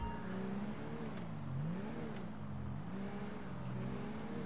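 An El Camino's engine in GTA 5 revs up and down several times in close, loud waves, with a rising and falling drone that never lets up.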